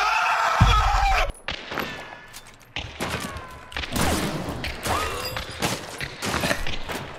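Rapid bursts of gunfire in the video game Hunt: Showdown crack and echo, with thuds and impacts between them, loud and close, with people talking over the shots.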